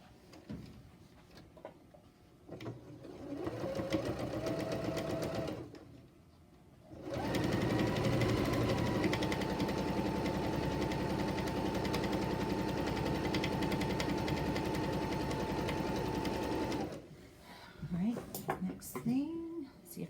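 A sewing machine stitches a quilt strip in quilt-as-you-go work, running in a short burst and then in one long steady whir of about ten seconds. It stops briefly between the runs and again at the end.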